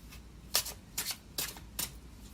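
Tarot cards are shuffled by hand in four quick riffling bursts, each a crisp papery rush spaced about half a second apart, close and moderately soft with no talking.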